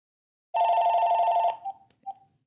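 A telephone bell rings loudly in one sustained burst of about a second, followed by a couple of short fading chirps, with no voices.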